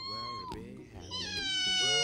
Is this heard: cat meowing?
yes